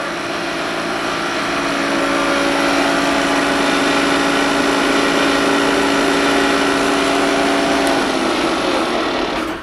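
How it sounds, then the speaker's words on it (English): A Webb 4VK variable-speed vertical milling machine runs with its power quill feed engaged, giving a steady, loud mechanical whine with a sustained tonal hum close by. It holds even for nearly ten seconds, with a brief click near the end and no speech. "Machine's equipped with a power quill feed."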